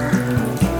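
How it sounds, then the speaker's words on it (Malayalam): Ghee is poured into chicken-and-beef meat rice (erachi choru) in a cooker, making a short liquid trickle with a couple of soft splashy pulses, close and brief, with no talking. "കുറച്ച് ലേശം നെയ്യുണ്ട്, അതും കൂടെ ഇതിനെ ഒഴിക്കാം"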